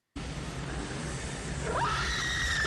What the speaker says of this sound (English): That's a good scream.